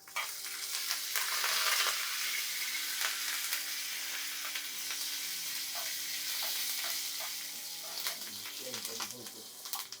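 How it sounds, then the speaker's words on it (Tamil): Curry leaves fry in hot oil for a Nagercoil-style cucumber curd pachadi, a steady close sizzle with occasional stirring clinks, loudest early and easing slightly toward the end. "ஸோ கருவேப்பிலை கொஞ்சோண்டு ஃப்ரை ஆகட்டும்"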